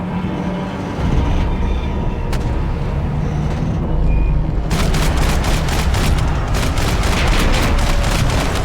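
Dense bursts of rapid gunfire erupt during a Max Payne 3 firefight, loud and chaotic over a booming action soundtrack, with rattling automatic volleys in the second half.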